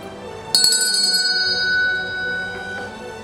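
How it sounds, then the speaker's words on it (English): A single bell strike rings out clearly, followed by a long, slowly fading hum of overtones, loud and alone with no talking. "The church bell struck again"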